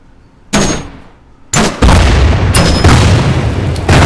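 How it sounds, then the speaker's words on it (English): Mortar rounds detonate in the Order of Battle: U.S. Marines strategy game, a sharp blast followed by two more heavy booms that run into sustained rumbling explosions, loud and close with no voices. "Another mortar attack, and so far every single one of their mortar attacks has been an utter and complete failure."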